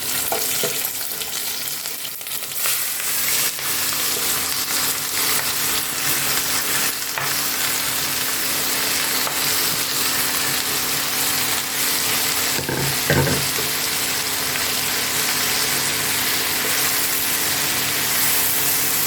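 Ash gourd fries in a pan with green chillies for a Bengali ghonto. A continuous loud sizzle runs throughout, broken by occasional scraping stir strokes, and no one speaks.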